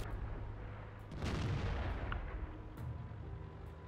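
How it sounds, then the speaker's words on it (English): Artillery fire in a video game: a distant heavy boom swells and rumbles, with a couple of sharper cracks later, heard fairly faint against the game's background hum. "Oh, artillery."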